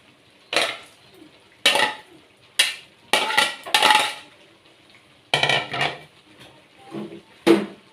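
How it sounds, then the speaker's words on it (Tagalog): Cabbage is added to pancit bihon cooking in a pan, bringing a series of separate utensil clatters and stirring scrapes spaced about a second apart, close and clear with no talking. "Lagay na po natin itong ano mga repolyo. Para sabay-sabay na po silang maluto."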